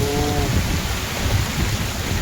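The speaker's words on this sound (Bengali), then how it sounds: "আজকে এই টাইমেই বৃষ্টি এসছে" Steady, dense rain pours down in a village ahead of a football game, a constant close hiss with a low rumbling undertone and no voices.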